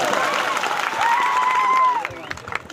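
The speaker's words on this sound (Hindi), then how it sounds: "एक बार जोरदार तालियां बजाते।" A crowd claps to welcome a speaker at a village panchayat event for World Tribal Day, continuous applause mixed with a voice over amplified sound, fairly loud throughout the short stretch.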